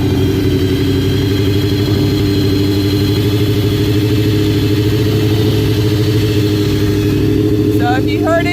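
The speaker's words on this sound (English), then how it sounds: "So if you can listen to my bike, you can actually hear the motor go up." A motorcycle engine idles loud and close, a steady buzzing drone as the idle is adjusted upward so the revs rise, with a voice audible over it near the end.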